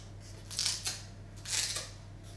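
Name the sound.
scissors cutting pandan leaves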